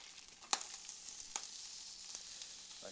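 Sliced half-moon onions sizzling in a pan, a faint steady frying hiss with a few sharp crackles and pops scattered through it, no voices.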